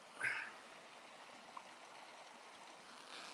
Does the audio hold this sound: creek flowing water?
yes